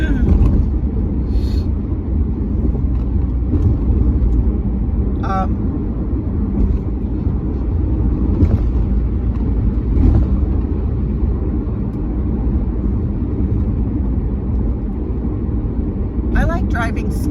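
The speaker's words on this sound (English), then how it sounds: "I like driving slow on the freeway" Steady, close cabin rumble from a car cruising slowly on a freeway at about 55 mph, with dense road and engine noise throughout and a few faint brief clicks on top.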